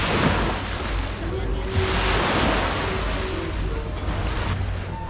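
Ocean waves wash steadily onto a beach in Turkey, with a broad continuous surf roar and swells rising and falling, plus wind buffeting the microphone and faint voices in the background.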